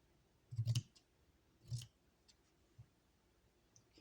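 Scissors cutting fabric, a few soft snips and clicks spaced unevenly, quiet and close in an otherwise still room.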